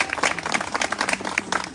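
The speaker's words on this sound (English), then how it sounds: "give all the grassroots community people a round of applause" A short burst of applause from a community crowd at an outdoor political event in Yonkers, dense clapping at moderate loudness with no talking over it.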